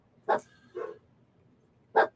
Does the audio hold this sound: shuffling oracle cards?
no